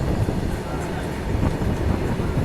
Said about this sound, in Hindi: ये जा रही है संपूर्ण क्रांति एक्सप्रेस गजब 130 पर।